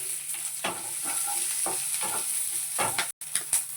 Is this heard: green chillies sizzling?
yes